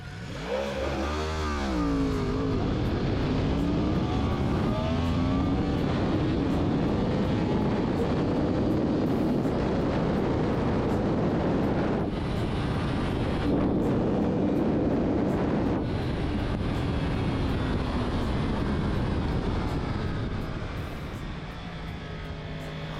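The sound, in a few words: Yamaha YZF-R1 motorcycle accelerating with launch control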